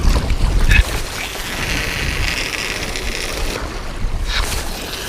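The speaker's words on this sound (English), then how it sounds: "windy and noisy here" Wind gusting at a riverbank catfishing spot, a loud rushing roar buffeting the microphone and swelling in waves, no talk.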